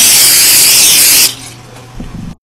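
A can of cooking spray hisses loudly onto the bottom of a baking pan in one steady burst of a little over a second, followed by quiet handling noises.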